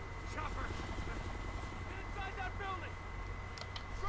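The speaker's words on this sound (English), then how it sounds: "Yeah, there's a helicopter." Continuous rotor thump of a helicopter in the video game Kane & Lynch 2: Dog Days, fairly close and steady, with brief voices speaking over it.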